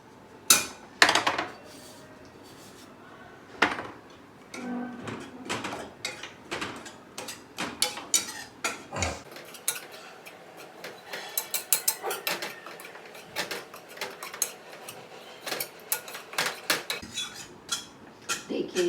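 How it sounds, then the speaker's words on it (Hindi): Dry wheat flour being roasted without ghee in a pan for a jaggery sweet, giving irregular scraping and clinking of a spoon against the metal pan, fairly close, with bursts of clatter and no talk. "ये जो 2 कटोरी आटा मैंने लिया था इसको अपने को 5 मिनट बिल्कुल बिना घी से ही सेकना है।"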